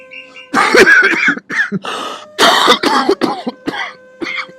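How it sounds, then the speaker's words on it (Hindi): Several harsh coughs and throat-clearing sounds, close by, in uneven bursts separated by short pauses. "मैंने आपकी खांसी की आवाज सुन गई"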